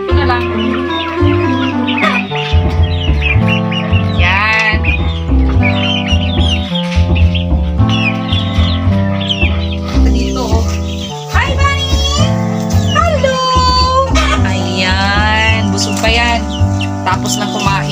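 Backyard chickens cluck and squawk repeatedly over a loud, busy musical backdrop, the bird calls popping out in short bursts throughout.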